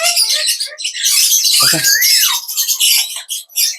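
A parrot's harsh, sustained squawking and screeching fills the clip, loud and close, with a brief low rumble partway through.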